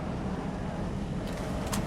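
A car in the NewState Mobile game drives along with a steady low engine rumble throughout, and a brief clatter comes near the end.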